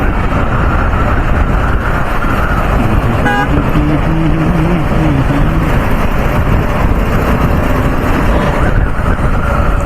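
Dense road traffic in a Hyderabad jam rumbles loudly and continuously, with engines droning nearby and a car horn blaring for about a second and a half partway through.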